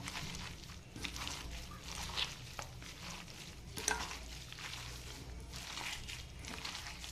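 Gram flour batter mixed with chopped bottle gourd leaves in a bowl: a steady soft wet stirring and squelching that runs throughout, fairly quiet, with an occasional faint clink and no speech.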